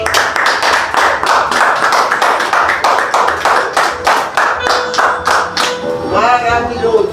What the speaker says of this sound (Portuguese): as palmas são para Jesus Cristo.